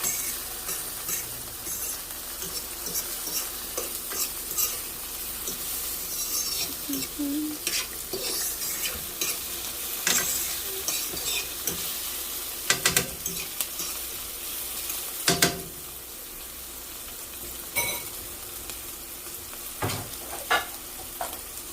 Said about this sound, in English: Let the cherry tomatoes burst.